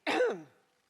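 A single short, rough cough during a party conference speech, close and fairly loud, then silence.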